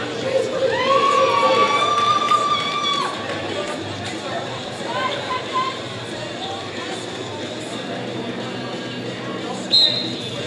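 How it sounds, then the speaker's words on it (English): Fans at a women's flat track roller derby bout shout and cheer in a large hall, with a loud burst at first that eases into a busy crowd murmur, plus scattered whistles and people talking. "Clearly, Shelbatron has brought her cheering section tonight."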